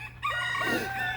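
Chickens settling in to roost for the night give a short burst of close, tonal clucking and squawking over a low steady hum.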